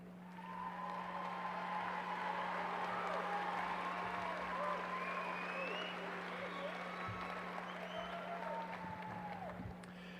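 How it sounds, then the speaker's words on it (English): Graduation audience at Hutto High School's 2019 ceremony applauding its honor graduates: sustained, dense clapping from a large crowd held steady for about ten seconds under a constant low hum. "Would our honor graduates please stand and receive our applause?"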